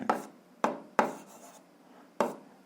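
A pen writing on paper while working an algebra exercise, four separate sharp scratchy strokes with short fading tails and quiet gaps between them, close and fairly faint, no talking.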